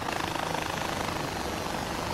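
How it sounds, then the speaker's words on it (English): Steady, loud rotor thump and engine roar of a helicopter in flight in the video game Far Cry 4, continuous and close with a rapid chopping pulse. "I can't get to Cibola on this fucking chopper"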